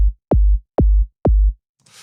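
Three deep, booming synthesized kick drums with a fast downward pitch sweep, evenly spaced, followed by a faint hiss at the end.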